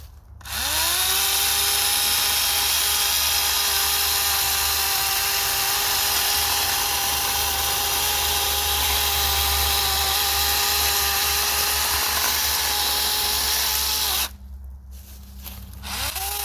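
A Greenworks 24V 12-inch brushless chainsaw cuts small branches of wood, its motor holding a steady, loud electric whine for about fourteen seconds before cutting off abruptly, with no voices.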